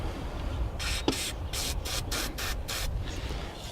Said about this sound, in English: what I like to do is just shoot them with PB Blaster, WD-40 a little bit, let them soak in